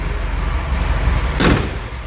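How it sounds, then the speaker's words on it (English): The door of a 1969 Ford Mustang Mach 1 with a 428 Super Cobra Jet shuts with a single solid thunk, close by, over a steady low background hum. "Nice, the door closes."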